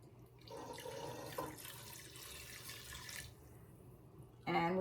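Apple cider vinegar for hot pepper jelly is poured into a pot on low heat, making a soft, steady splashing trickle for a few seconds, followed by a brief louder clink near the end.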